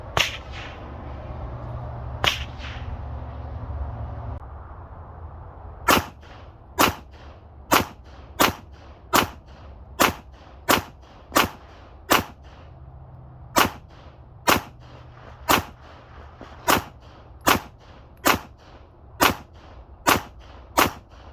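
Shots from a MAC 9 DS pistol fired at an outdoor range, a steady string of about twenty sharp, loud cracks spaced roughly a second apart after two early separate shots, with no talking.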